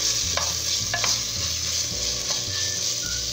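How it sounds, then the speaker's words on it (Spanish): Chopped beef strips sizzle in a pan while being stirred, a steady frying hiss with occasional scrapes and clicks of the utensil. "ingresar nuestra carne picada en forma larguita y movemos"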